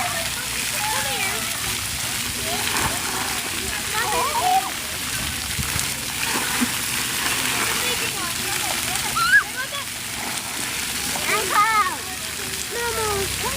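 Water splashes and sloshes continuously at a splash pad, with a spray-like hiss and occasional louder splashes, while children's and adults' voices chatter over it.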